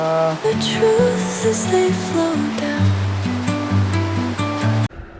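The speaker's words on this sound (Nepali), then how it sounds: "पुरै पानी परिरहेको छ" Heavy monsoon rain pours down as a loud, steady roar with some tonal sounds mixed in, then cuts off abruptly near the end.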